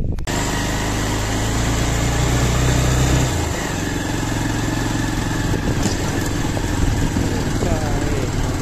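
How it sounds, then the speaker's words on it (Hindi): A motorbike engine drones loud and steady while the bike climbs uphill on a village road, a close continuous roar with a shift in pitch partway through. "इधर से मैं बाइक लेके जा रहा हूँ"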